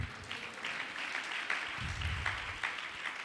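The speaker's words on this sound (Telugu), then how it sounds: "నమ్మితే చప్పట్లు కొట్టు" A church congregation claps together during a Christian sermon, a dense, moderately loud patter of many hands sustained throughout, with a faint low voice briefly underneath.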